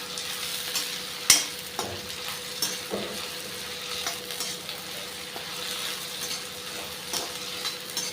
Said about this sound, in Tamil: இது நல்லா கம்ப்ளீட்டாக வதக்கிக்கலாம்.